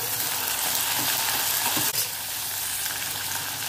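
Mutton bones drop into a hot onion and green chili tempering and fry with a loud, continuous sizzle and crackle, close up with no talking.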